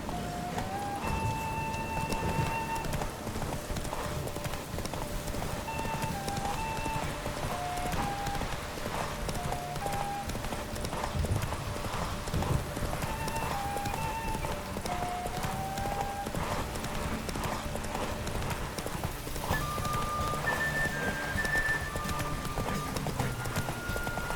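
Hooves of the horse Roach galloping in The Witcher 3, a steady rapid clip-clop running the whole way under game music with tonal melody lines, brief voices now and then.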